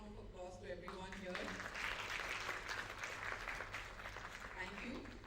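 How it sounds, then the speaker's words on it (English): Round of applause from an event audience at a Steel-a-thon finale, clapping swelling in after a voice at the start and continuing steadily, with a low hum underneath. "a big round of applause to everyone here"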